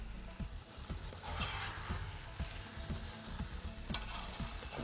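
Chicken fries in a pan with cumin, cinnamon and cloves, a steady close sizzle broken by frequent scraping stirs and utensil taps, with no talk.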